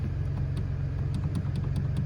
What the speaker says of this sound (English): Let's start the car again and let's see what happens here.